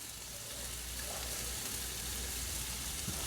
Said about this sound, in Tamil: அப்புறம் தக்காளி வந்து தவாவில் போட்டுக்கணும்